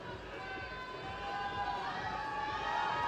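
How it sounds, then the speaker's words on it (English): Crowd at a bouldering finals competition in Salt Lake City, a steady murmuring roar of many voices rising in excitement and growing slightly louder toward the end, heard continuously in the background. "You can probably hear the crowd in the background as they start to get close to the front of the wall."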